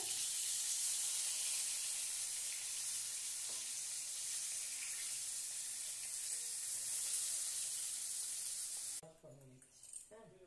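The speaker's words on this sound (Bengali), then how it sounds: "তেলে পাঁচফোড়ন দেওয়া হচ্ছে।" Panch phoron spices dropped into hot oil give a steady, bright sizzle that holds for several seconds, then gives way to a few louder clattering stirs near the end.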